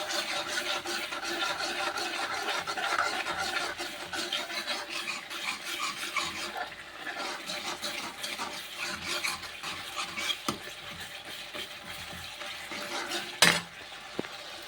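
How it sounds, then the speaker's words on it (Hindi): Spices temper, sizzling and crackling steadily in hot oil in a pan, with occasional clinks of a utensil against the cookware. "देखो गाइस तड़का हो रहा है"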